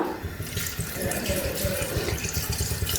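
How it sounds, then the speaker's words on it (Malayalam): Thin second-press coconut milk poured into a clay pot of potatoes for a Kerala potato mappas, a steady close liquid splashing and gurgling that runs continuously for a few seconds, alone without talk. "ഇതിലേക്ക് നമുക്ക് തേങ്ങയുടെ രണ്ടാം പാല് ഒഴിച്ചു കൊടുക്കാം"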